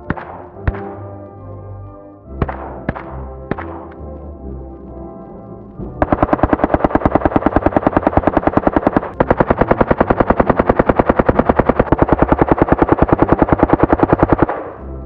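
Saiga shotgun fired with a SilencerCo Salvo 12 suppressor: a few separate sharp reports, then two long rapid strings of loud, close shots in a fast steady rhythm.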